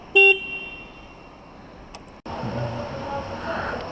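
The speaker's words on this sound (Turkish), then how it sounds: "Kornaya basalım." A short, loud motorcycle horn toot sounds once near the start, followed by a quiet hum and then steadier engine-like rumble from a Bajaj Pulsar RS200 at a vehicle inspection.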